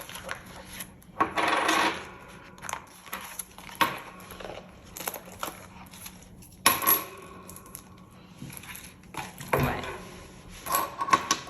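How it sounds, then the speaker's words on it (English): Coins drop one by one into a coin jar, giving sharp metallic clinks and rattles in irregular bursts with quiet gaps between, close and fairly soft, with no speech. "I do just want to pop my coins in the coin jar"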